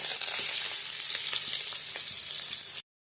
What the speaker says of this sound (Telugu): పచ్చిరొయ్యల్ని బాగా వేయించుకోవాలండి.